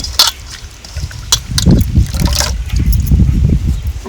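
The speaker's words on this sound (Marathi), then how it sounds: "म्हणून आपल्याला चांगली स्वच्छ पाण्याने धुवून घ्यायची ही भाजी." A wild leafy vegetable that looks like chickpea greens is washed by hand in clean water, with loud close splashing, swishing and trickling that builds and continues steadily.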